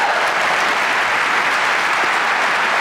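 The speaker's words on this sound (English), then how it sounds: "Although you applaud that" An audience at a keynote by a humorist claps steadily, a dense, even wash of applause from many hands throughout, with no voices over it.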